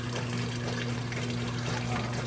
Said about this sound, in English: the dirty water has come from the washer.